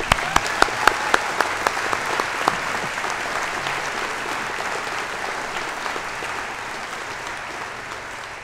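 A convocation ceremony audience breaks into sustained applause: a few sharp early claps swell into a dense, steady wash of clapping that carries on evenly throughout.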